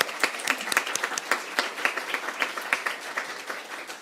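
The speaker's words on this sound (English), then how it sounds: "let's give a round of applause to GAP and ICAP" An audience at a Council event gives a round of applause, with moderately sparse, distinct hand claps from a modest crowd, steady at first and then thinning out.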